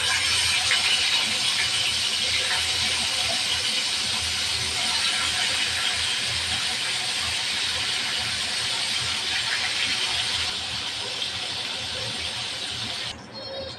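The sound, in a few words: koi fish frying in hot oil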